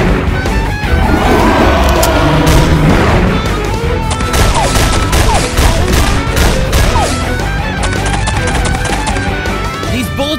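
Sustained gunfire from several weapons shooting at a flying monster in a radio play, loud and dense, with bursts and crashes running throughout and voices mixed in.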